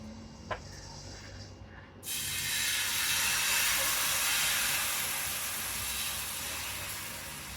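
Ragi ghavan batter poured onto a hot pan, a brief tap and then a loud, sustained sizzling hiss that slowly eases.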